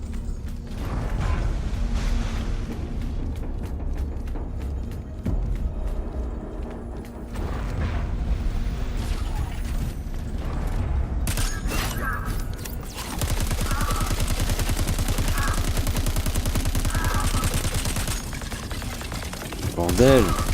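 Rapid bursts of gunfire in the video game Crackdown 3, dense runs of sharp shots with clanking mechanical sounds, growing heavier and more continuous toward the end beneath game noise and voices.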